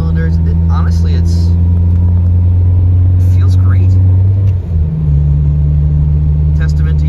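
A turbocharged 2AZ-FE four-cylinder swapped into a Subaru BRZ, a loud, steady engine drone heard from inside the car, briefly dipping as the load changes, while people talk over it.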